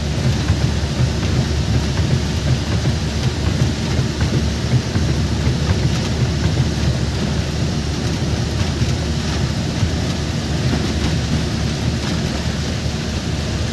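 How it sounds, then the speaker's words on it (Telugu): Rain falls on a car being driven through a sun shower, a dense, steady rushing patter that holds at an even, loud level throughout with no voices. "ఎండ మరియు వాన ఒకేసారి ఉంది."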